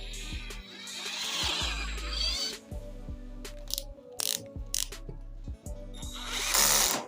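A power drill bores a small hole, its motor whining in repeated short bursts that start and stop, with clicks and handling sounds between runs, close and fairly loud.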